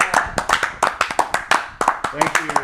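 A small group in a podcast studio claps in sharp, uneven bursts, loud and close, with voices whooping and talking over the clapping.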